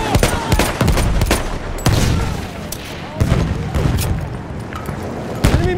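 Battlefield 1 combat with loud, close bursts of machine gun fire mixed with single gunshots and booms, a chaotic irregular fusillade, with soldiers shouting in between.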